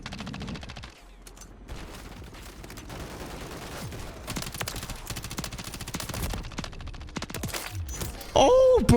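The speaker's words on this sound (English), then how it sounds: "I spammed out too many shots." A BAL 27 assault rifle fires in Modern Warfare 3 multiplayer, with rapid bursts of automatic gunfire and overlapping shots from across the map, loud and continuous, ending in a sharp close burst.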